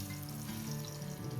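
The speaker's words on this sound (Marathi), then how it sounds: "तर मच्छी फ्राय करून घेऊया पटापट." Fish (pathan fish) sizzles and crackles in hot oil with garlic, a quiet continuous frying hiss with small pops under a low hum.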